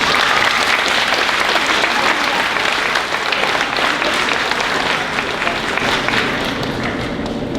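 Sustained audience applause at a junior high school year-end awards ceremony, steady and dense for the full stretch with no break, filling the room at even loudness.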